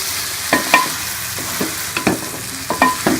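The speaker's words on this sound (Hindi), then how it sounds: "अब इसके अंदर मैं भिंडियाँ डाल दूँगी, इसको मिक्स करके" Okra being stirred into fried masala in a hot pan, with loud steady sizzling broken by several distinct spoon scrapes and knocks against the pan, close up.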